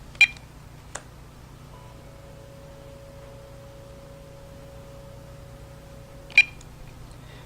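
A steady dial tone plays on a standard handset connected to Ooma phone service. It holds for several seconds, with short beeps before and after it, over a quiet line hiss.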